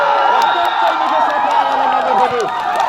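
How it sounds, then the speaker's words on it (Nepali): Dense crowd at a Dedhgaun vs Phulbary cricket final cheers and hoots with whistling, overlapping voices. The loud, continuous roar never drops out. "तपाईँहरूको एकदम राम्रो हुटिङ आइरहेको छ।"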